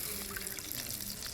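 Water pours steadily into a pan for rava kesari, a quiet continuous splash and trickle over a short moment, heard close up with no talk.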